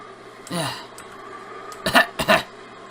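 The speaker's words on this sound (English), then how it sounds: "when an attack comes suddenly, she can't stop coughing anymore" A soft vocal sound near the start, then two sharp, harsh coughs close together near the end from a woman's sudden coughing attack, nearby with faint background hum.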